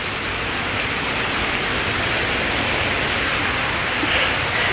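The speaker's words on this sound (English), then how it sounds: "I got caught in a rainstorm." Heavy rain pours down steadily in the Musée Rodin gardens in Paris, a dense, loud, continuous hiss of drops close by with no voices over it.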